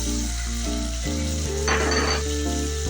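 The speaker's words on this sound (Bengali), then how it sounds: "মশলাটা ভালো করে কষিয়ে দেবো।" Paste of ginger, green chillies, garlic, cumin and coriander with salt, turmeric and Kashmiri chilli powder frying in a pan for prawn curry, a steady close sizzle with scraping stirs and a brighter hissing burst midway.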